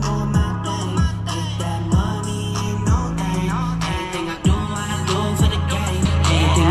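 Hip-hop music with a strong rhythmic beat and bass plays loudly through the Rockford Fosgate speaker system of a Harley-Davidson Low Rider ST or Street Glide, steady and close, with no talking.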